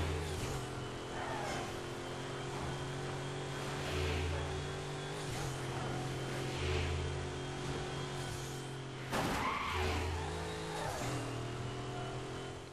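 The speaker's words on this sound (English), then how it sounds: "Did you guys hear that clutch? It's so fucking good." A car engine revving and shifting with the clutch in the racing video game Midnight Club: Los Angeles, a steady droning engine with repeated rises and dips in pitch and a sharp thump near the end, fairly quiet.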